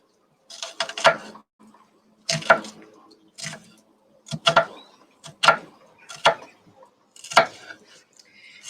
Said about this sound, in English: we're going to take our onion and we're going to finely chop